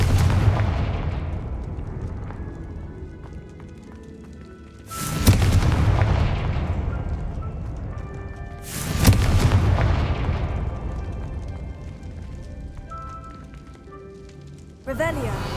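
Three heavy blasting-curse explosions in Hogwarts Legacy, each a sudden loud boom fading into a long rumbling tail, spaced several seconds apart, with a fourth just beginning at the end.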